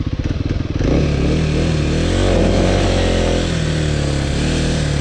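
A Kawasaki KLX300 dirt bike engine revs hard and holds a loud, steady high drone while the rear tire spins without grip, after a few uneven opening pulses.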